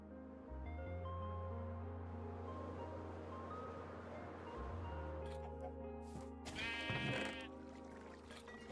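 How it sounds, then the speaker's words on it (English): Minecraft sheep in a wool farm bleat repeatedly, several overlapping game bleats over a steady low hum, with a brief burst of other game sounds near the end. "Do I have a purple sheep in there?"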